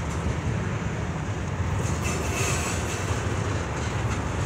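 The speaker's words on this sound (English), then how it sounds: "The train started moving now." A heavy Norfolk Southern intermodal freight train starts moving and rumbles steadily along the tracks, a dense continuous roar with faint metallic clatter and brief squeaks.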